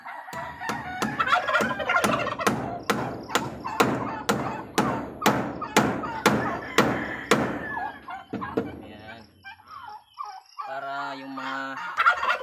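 Large broad-breasted turkeys gobble loudly and close by in a rapid series of about fifteen calls, followed by softer scattered clucks and chatter near the end.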